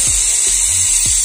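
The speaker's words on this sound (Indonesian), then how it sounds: "Kita dengerin bunyi mesinnya." The small electric motor of a Tamiya FM chassis model car runs at close range, a loud, steady high-pitched whine with a few low clicks and pulses beneath it.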